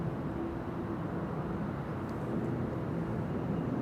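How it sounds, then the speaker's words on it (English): An Air Europa airliner taxis toward the center runway at Amsterdam Schiphol Airport, a steady, broad jet engine rumble and hiss heard at a distance, holding level throughout with no voices. "Air Europa on its way to Madrid. Taxiing to the center runway to take off from."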